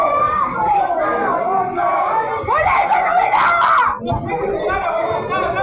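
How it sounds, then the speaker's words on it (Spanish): Girls scream loudly and continuously from the stands at a Liga Posadeña football match in Posadas, Atlético Posadas against Guaraní, rising to a shrill peak amid dense crowd chatter and babble. "Grito desaforado de las chicas en la tribuna"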